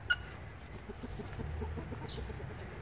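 Soft, quiet clucking from chickens in a steady rhythmic series, somewhat distant, over low background noise.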